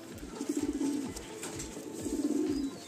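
A Madrasi pigeon coos nearby in two throaty, rolling phrases, with a faint hum of a loft in the background.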